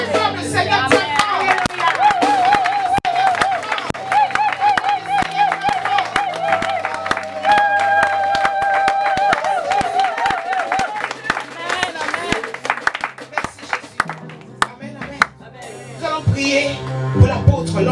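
A church congregation claps and cheers in praise of the Lord, dense and loud applause with shouting voices and sustained sung or shouted tones over steady crowd noise, thinning out near the end.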